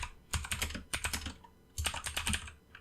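Rapid keystrokes on a computer keyboard come in two quick bursts split by a short pause, close and crisp with nothing else around them.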